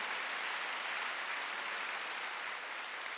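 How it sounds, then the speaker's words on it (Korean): Applause from a church congregation during a Sunday worship service at Jesus Centered Church, a dense, steady wash of clapping filling the room evenly from start to finish with no voices standing out. "박수 하세요"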